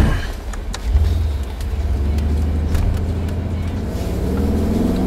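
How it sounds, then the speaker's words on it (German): A Mercedes G63 on a test track brakes hard and steers, its engine and tyre noise loud and steady throughout, with someone speaking over the vehicle sound. "Bremsen, Auto wird instabil, geht nach links."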